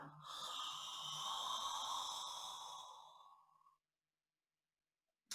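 A long, deep breathy exhale during a yoga breathing exercise, steady and close for about three seconds before fading into silence, with no talking.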